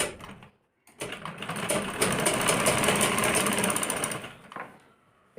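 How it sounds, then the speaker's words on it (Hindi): A sewing machine runs a steady seam along the edge of a blouse border, starting after a brief pause, holding a continuous close whirring burst for about four seconds, then slowing to a stop. "यहाँ पे हम इसके किनारे किनारे बिल्कुल सिलाई मार देंगे"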